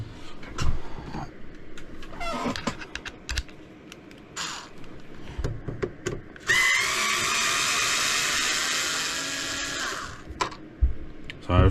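Torx screws are undone with a whirring electric driver on an Xbox Crystal console during a repair, one sustained buzzing run of about four seconds amid scattered clicks and handling taps.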